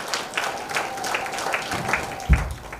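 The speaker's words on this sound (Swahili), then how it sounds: "Makofi na vigelegele" Audience at a university convocation general meeting applauding, with rhythmic bursts of clapping and high trilling ululation layered over a hall crowd, moderately loud, ending in a sharp low thump.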